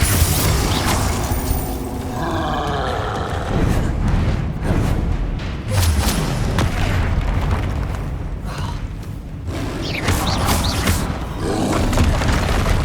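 Spell blasts such as Confringo in Hogwarts Legacy boom and roar in dense, overlapping bursts, loud and continuous, with rumbling impacts and crackling bursts layered over game combat noise.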